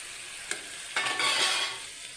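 Dudhiya colocasia pieces drop into oily fried spice paste for a milk colocasia curry. A sudden loud sizzle follows as they are stirred, then the hiss slowly settles.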